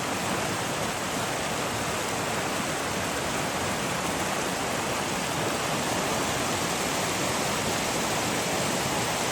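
A river rushing over rocks, a loud, unbroken roar of flowing water that holds steady throughout with no other sounds.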